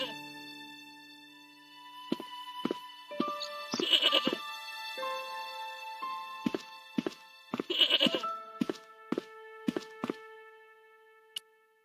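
A tethered goat in the Irish countryside of Broken Sword: Shadow of the Templars Director's Cut gives two loud wavering bleats amid a series of sharp knocks and clicks, set against a quiet, sparse background.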